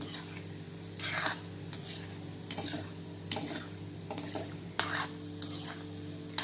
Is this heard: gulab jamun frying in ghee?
yes